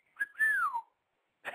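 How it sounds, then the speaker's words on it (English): A man whistles a short, clear rising-then-falling note, close and alone in an otherwise quiet moment, followed by a brief burst of noise. "you just bust out the whistle there"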